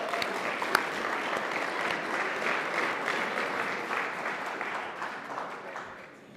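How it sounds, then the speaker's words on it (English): A room of members at a civic association meeting applauds themselves, a dense, steady roll of clapping that holds evenly for several seconds and then slowly tapers toward the end. "So what I'd like to do is have you guys give yourselves a round of applause."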